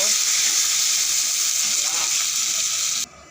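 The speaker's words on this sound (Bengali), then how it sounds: "এখানে পেঁয়াজ কুচানো আছে এগুলো দিয়ে দেবো পেঁয়াজগুলো ভালো করে ভেজে নেব" Chopped onions frying in hot oil in a home kitchen pan, a loud, steady, close sizzle that runs unbroken before cutting off abruptly near the end.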